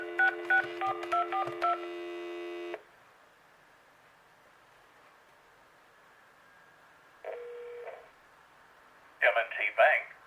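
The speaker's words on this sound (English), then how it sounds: "The dial tone is awful." A thrift-store speakerphone plays a dial tone, then rapid DTMF dialing beeps, followed by a long quiet pause, a brief tone and another cluster of bright tones, thin and tinny through the small speaker.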